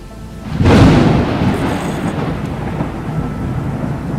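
Rain and thunder in the survival video game Sunkenland: a loud, close thunderclap booms out and rolls away into a steady hiss of heavy rainfall that carries on to the end, with no voices.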